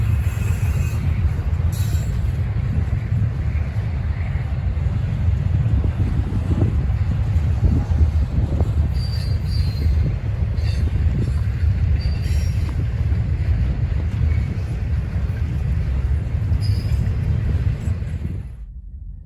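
Freight train led by two orange BNSF locomotives rolls past near Berea's Brook Park connection, a steady loud rumble of wheels and cars with occasional squeals and wind buffeting the microphone, ending abruptly.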